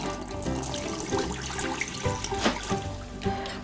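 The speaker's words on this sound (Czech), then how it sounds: "Tak čočku si opláchneme a zalejeme trochu vody." Tap water running into a pot to rinse lentils for lentil soup, a continuous splashing trickle with brief sloshes, close by and with no talk.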